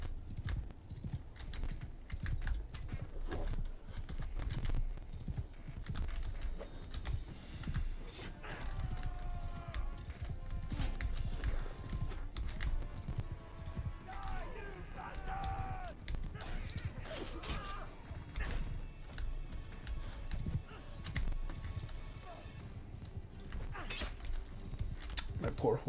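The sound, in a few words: horse galloping and neighing in Mount and Blade 2: Bannerlord video game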